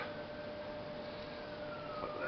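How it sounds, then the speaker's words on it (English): A faint siren wails in the distance, its pitch slowly rising and falling over a low background hum. "I don't know if you can hear that in the background, the sirens."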